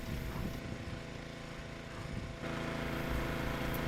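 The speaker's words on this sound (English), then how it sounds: "I'm only using the pressure washer to loosen the gravel underneath the sidewalk" A pressure washer runs steadily while blasting loose the gravel under a concrete sidewalk, a constant motor drone with hissing spray that grows louder near the end.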